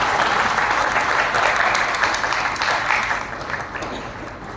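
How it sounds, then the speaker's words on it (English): Audience applause for a team of people at a Dehradun product presentation, steady dense clapping that stays loud throughout and eases slightly toward the end, with no talk over it. "have a big round of applause for my amazing team"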